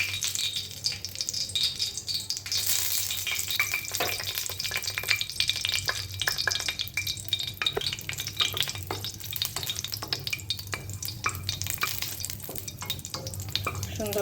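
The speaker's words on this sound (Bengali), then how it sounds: "তেলটা আমার গরম হয়ে গেছে একটু শুকনো লঙ্কা ফোড়ন দিয়ে দিলাম" Dry red chillies crackle and sizzle in hot oil, a dense close frying hiss with rapid pops and occasional rattling stirs, no voices.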